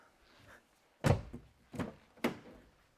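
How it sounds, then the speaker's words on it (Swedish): Car door on a 2014–2018 Volvo V60 opened and shut during an interior LED lighting upgrade: three distinct thuds with latch clicks, each loud and close, in an otherwise quiet cabin. "Man kan ju göra så att man öppnar och stänger en dörr."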